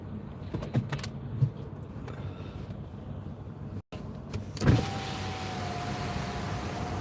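Inside a car on a sunny UK road trip, an electric window motor whirs steadily as the glass lowers, starting after a click, with outside air and road noise swelling in under a constant cabin hum.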